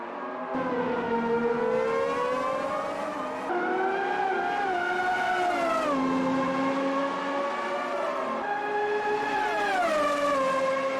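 1991-season Formula One race cars in the Automobilista 2 racing game scream through the Acque Minerali corner in a close Prost–Senna battle. High-revving engine whine rises and falls with gear shifts, loud and continuous, with no talk.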